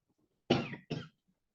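A person gives two quick dry coughs close by in a quiet room, the second shorter than the first.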